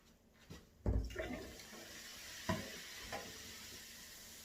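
Half a cup of white vinegar splashes into a drain already dosed with bicarbonate of soda, a thudding pour followed by a steady soft fizzing hiss with a couple of small gurgles.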